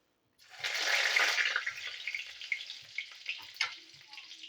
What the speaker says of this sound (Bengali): এবার তেজপাতা ফোড়ন দেবো